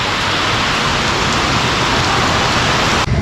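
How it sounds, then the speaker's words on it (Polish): Heavy rain in Cambodia pours down in a loud, constant hiss of dense drops on surfaces, unbroken and close, with a slight dip near the end. "na tyle mocno zaczęło padać"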